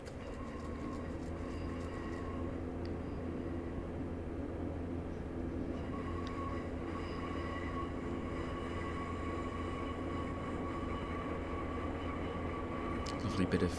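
Class 142 Pacer train in a train simulator rolling around a bend, a steady rumbling diesel drone with a thin, sustained high squeal of wheel flanges layered over it throughout.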